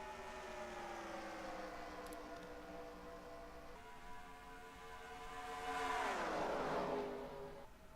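Stock cars race at Homestead in NASCAR Racing 2003, a steady multi-car engine drone with one car's pitch sweeping up and down loudly near the end, no voices.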